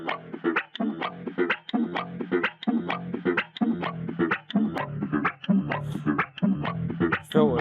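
A sample-style funk bass loop repeats a short, punchy, filtered phrase in a steady groove, played alone with no voices.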